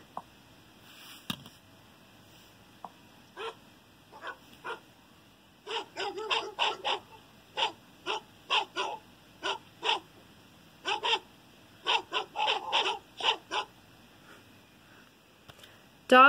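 A dog barks in a rapid series of sharp, close barks, scattered at first and then bunching into quick runs, with soft whimpers between them over a quiet background.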